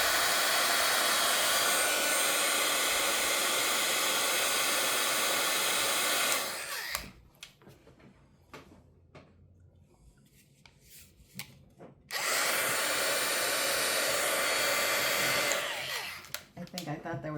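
A heat gun blows a steady, loud rushing hiss during blanket stitching. It cuts out midway for a stretch of quiet handling and small taps, then roars back and tapers off at the end.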